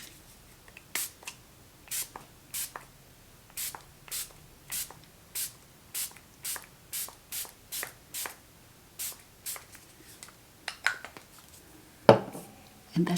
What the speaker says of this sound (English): little setting spray.